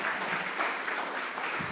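Brief, moderately quiet applause from an audience at a community dialogue, a soft, even patter of clapping with no break.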